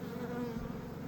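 A swarm of honey bees from an acacia-season swarm hums in a dense, steady buzz that stays loud and unbroken throughout, with no voices.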